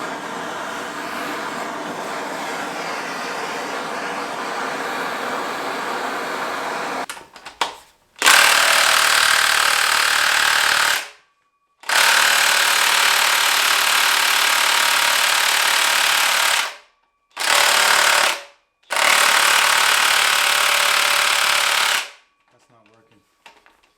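An impact gun hammers at a stubborn motor bolt in a series of loud, rattling bursts of a few seconds each, separated by short silences, after a quieter stretch of background noise.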